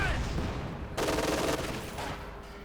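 Game battle audio from Company of Heroes 2: German machine guns rattle in a dense, rapid burst against Russian infantry, with a tank main gun in the mix. The firing sits under a commentator's voice.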